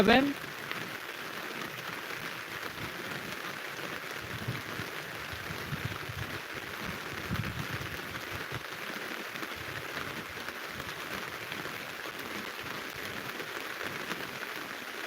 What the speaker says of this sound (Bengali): মুসলধারে বৃষ্টি পড়তেছে